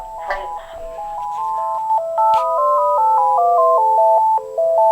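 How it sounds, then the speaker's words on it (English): A Uniden Loud & Clear D3098 cordless phone handset rings indoors with a continuous melodic electronic ringtone of stepping beeping notes, fairly loud and close, without speech. "Okay, let's see if it works on the handset in Mom's room. Call from Fritz."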